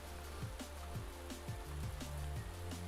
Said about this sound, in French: toujours avec cette pluie